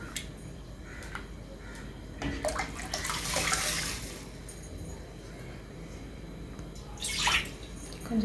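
Water splashes into a pot of rasam in a short pour, then another brief pour, over a low background hum.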